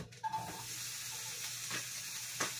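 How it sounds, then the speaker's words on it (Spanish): Onion hits a pan for sautéed mushrooms and sizzles with a faint, even hiss. A couple of quiet stirring scrapes break through near the start and later. "agregamos nuestra cebolla."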